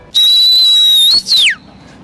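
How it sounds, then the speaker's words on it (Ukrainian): A piercing, steady whistle made with the lips alone, no fingers, holds one high pitch for about a second, breaks briefly, then slides downward and stops, loud and close with no talking. "почему только вы свистите?"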